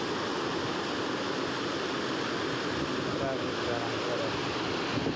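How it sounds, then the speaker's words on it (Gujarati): Floodwater of a swollen river after heavy rain rushes past in a steady, dense roar that stays loud and unbroken, with a faint voice under it. "પાણી તો જોવો મિત્રો, કેટલું પાણી જાય"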